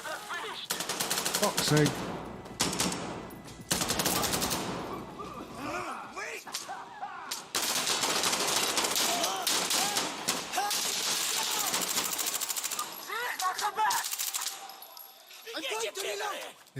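Full-auto gunfire in Insurgency Sandstorm rattles in repeated bursts with sharp cracks, loud and close, broken by short pauses while a player curses and talks over it.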